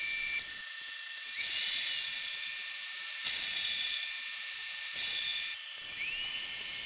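A lathe turning and facing an epoxy ring blank, giving a faint high-pitched whine with a steady hum. The tone cuts in and out in short passes as the tool engages the workpiece.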